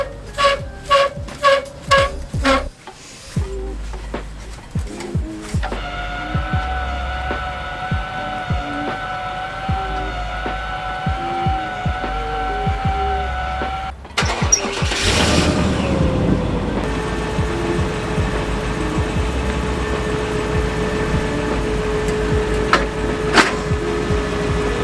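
Electric stabilizer jacks on a full-time travel RV are lowered before the front is lifted to hitch onto a truck. A few sharp clunks lead into a steady, droning motor whine that runs for several seconds, then gives way to a louder broadband rumble.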